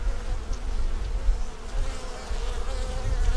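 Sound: honey bees buzzing on a beehive frame

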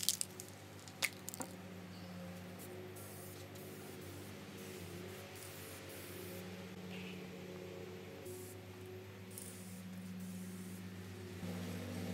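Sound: spraying polyurethane from a spray can onto a picture frame

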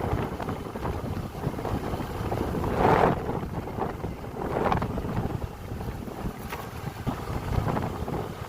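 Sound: wind blowing outdoors in a village

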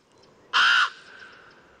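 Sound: raven chicks calling noisily in nest on rocks

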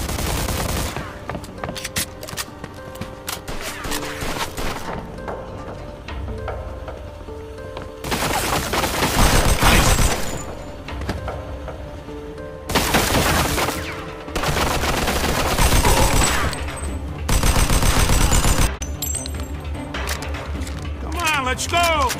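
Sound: gunfire in the video game Mafia 2 Definitive Edition

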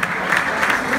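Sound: carnival audience applauding

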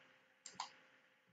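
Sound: mouse click in Solidworks

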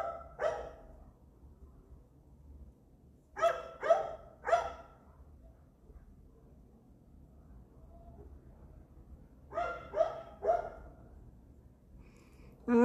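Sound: neighbour's dog barking

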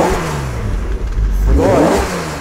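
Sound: BMW Alpina B6 engine revving

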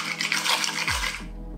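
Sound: stirring a mocktail with a bar spoon

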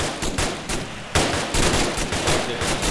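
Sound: enemies firing guns in Arma 3 video game

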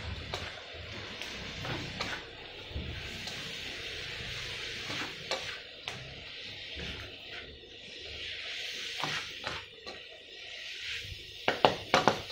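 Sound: stir-frying pork belly with lemongrass in a pan

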